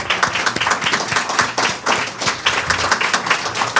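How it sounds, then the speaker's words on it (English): Audience applause at a foundation scholarship celebration, with lively, uneven clapping whose individual claps stand out close by, continuing for a few seconds with no talking. "I want to give all of you a round of applause for your excellence."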